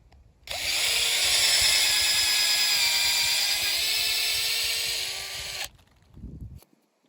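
A power drill bores a tap hole into a maple tree trunk, a steady high whine held for about five seconds before stopping abruptly, followed by a brief low rustle.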